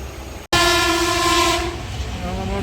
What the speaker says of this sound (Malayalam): നമ്മൾ ട്രെയിൻ എടുത്തു.